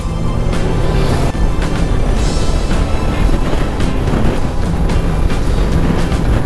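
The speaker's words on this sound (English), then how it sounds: "The wind's ripping through here today, isn't it?" Strong wind buffets the microphone on a motorbike tour in Northumberland, a loud, constant broadband roar with gusty surges throughout and no talk.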